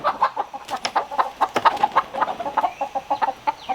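Rapid, repeated clucking from chickens nearby, a busy run of short calls overlapping one another, loud and continuous.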